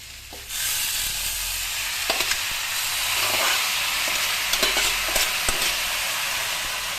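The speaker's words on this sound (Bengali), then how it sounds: "সেদ্ধ করে রাখা শাকটা এতে দিয়ে দেবো।" Boiled pui greens dropped into a hot pan with fish head, a sudden loud sizzle and steamy hiss that keeps going under repeated scraping stirs, close and busy with no talk.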